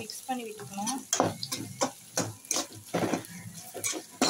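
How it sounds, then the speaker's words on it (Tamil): Onion, curry leaves and dried red chillies are stirred in hot oil, giving a steady sizzle with repeated scraping strokes of a spoon against the pan, close and fairly loud. "இது வந்து நம்ம நல்லா மிக்ஸ் பண்ணி விட்டுக்கணும்."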